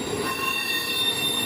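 A train rolls by with steady, piercing wheel squeal over a continuous rumble of rail cars, close and loud with no voices.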